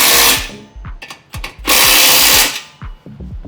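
A power tool tightens a U-bolt on lifted trail steps for a Club Car Onward six-passenger golf cart, in loud close bursts of whirring and ratcheting separated by short pauses.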